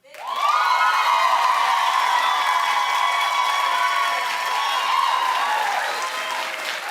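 A studio audience bursts into loud, sustained clapping mixed with cheers and whoops, filling the room steadily for several seconds before easing slightly at the end.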